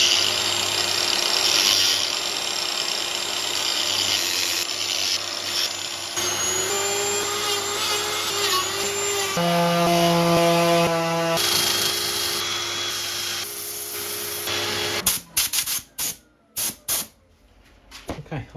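A wood lathe spins a turned wooden piece while it is sanded, a steady whirring drone with shifting tonal whines, ending in a few scattered knocks and clatters.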